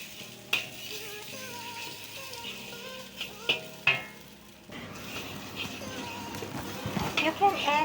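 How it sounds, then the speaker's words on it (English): Chili paste for Devil's Curry hits a hot pan and starts frying, a loud sizzle rising under a voice, with clinks and stirring knocks from a utensil against the pan. "Then let's put our chili paste."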